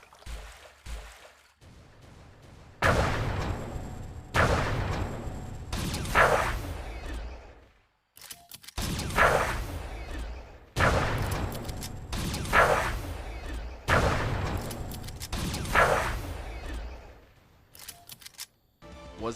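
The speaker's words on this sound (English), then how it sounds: "quite possibly the worst water explosion effect I've ever heard in my life" Repeated water explosion effects from the Nintendo Switch game Titan Glory, a series of loud bursts that splash and hiss for a second or two each, separated by short silent gaps, with no talking.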